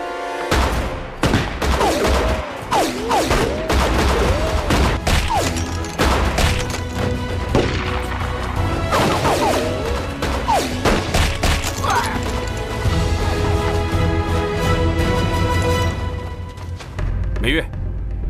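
Sustained gunfire with crashes and booms fills a martial arts film scene, loud and continuous, with urgent voices shouting over the shots throughout.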